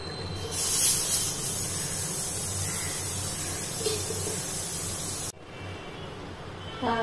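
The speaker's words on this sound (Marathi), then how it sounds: "आता आपण पॅन मध्ये थोडंसं तेल टाकू।" Oil poured into a hot pan in which coriander and cumin seeds have been dry-roasting, giving a broad steady hiss throughout that drops to a lower, quieter sizzle near the end, with no talk.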